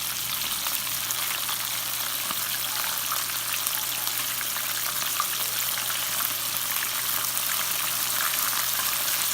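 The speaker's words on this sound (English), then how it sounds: "we're gonna let that batch fry" Chicken livers dredged in flour fry in hot oil with a steady, dense sizzle and crackle that holds evenly throughout, close and fairly loud, with no talking.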